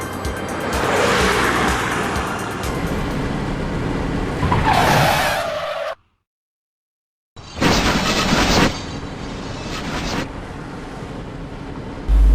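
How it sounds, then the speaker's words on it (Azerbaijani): A car driven at high speed on a downhill curve in mountainous terrain loses control and crashes, with loud engine and tire roar, an abrupt silence, then a harsh burst of noise. "enişdə olan döngədə avtomobilin idarə edilməsini itirərək qəza törədir"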